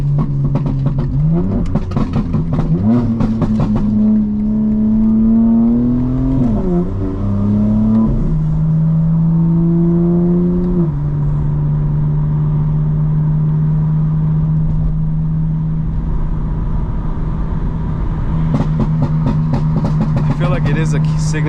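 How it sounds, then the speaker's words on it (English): A 900 hp 2025 BMW M4 engine revving up and settling, its pitch rising and dropping in several steps before holding a steady idle drone, with popping crackles at the start and end. "It is a signature, oh shit, BMW thing to have like max burbles."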